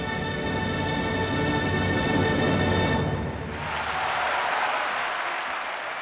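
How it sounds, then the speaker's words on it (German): Large opera audience bursts into applause for a tenor after a music passage ends, a dense sustained roar of clapping filling a big hall, loud and continuous. "Und 400 Millionen Menschen in aller Welt jubeln ihm zu."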